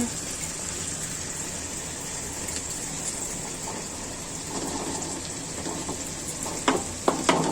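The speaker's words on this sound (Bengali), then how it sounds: "এই চিচিংকাটা দিয়ে আমি আমার ডিমটা ভেজে নিব" Eggs frying with snake gourd, onion and garlic in a pan: a continuous dense sizzle like rain, with a few sharp clacks of a utensil near the end.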